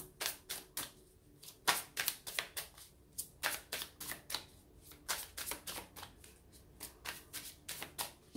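Tarot cards are riffled and shuffled close up in a quick run of crisp, regular snapping bursts about every half second, fairly quiet and with no talk over them.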